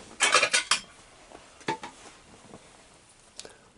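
Metal tongs handled while a cobalt blue tarantula is unboxed: a few quick metallic clinks and scrapes close up, bunched near the start with a couple of fainter taps later.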